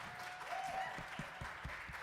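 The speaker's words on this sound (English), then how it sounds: "give him a round of applause if you enjoyed his voice so far" A small audience at a student recital claps quietly for a voice actor, a faint, thin patter of hands with a few distinct low thumps, distant and soft against a low room hum.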